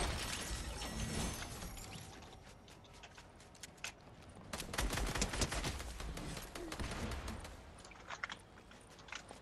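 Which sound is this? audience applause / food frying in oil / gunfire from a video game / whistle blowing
gunfire from a video game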